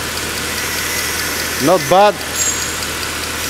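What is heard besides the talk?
Mercedes C63 engine idling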